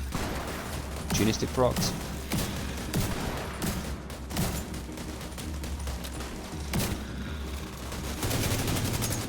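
Automated turrets in the shooter game The Division 2 fire in rapid, dense bursts that run almost continuously, with someone talking excitedly over the gunfire.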